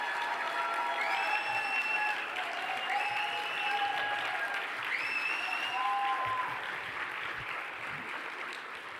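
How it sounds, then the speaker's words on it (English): A crowd applauds steadily for several seconds, dense clapping with scattered tonal chirps over it, gradually tapering slightly toward the end. "Please give them another wonderful round of applause."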